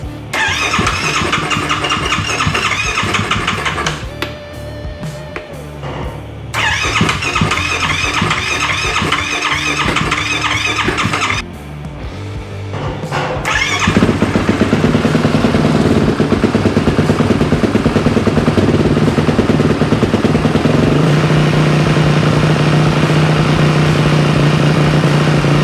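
A Yamaha YFZ450R ATV engine fitted with a Yoshimura exhaust runs steadily and loudly close by. It cuts out briefly, then its idle is raised to a higher, continuous drone with no talking.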